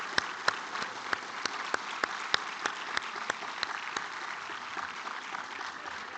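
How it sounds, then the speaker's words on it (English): Audience applause at an awards ceremony, a steady wash of many hands clapping for about six seconds, with a few sharper individual claps standing out regularly throughout. "let's give them another round of applause"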